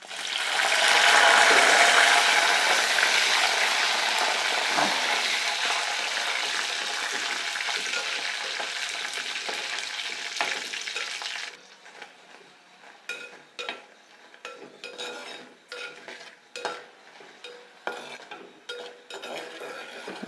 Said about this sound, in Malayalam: ഇനി നമുക്ക് ഇതിലോട്ട് വറ്റൽ മുളക് ഇട്ട് കൊടുക്കാം.